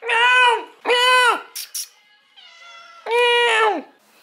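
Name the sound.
cat meowing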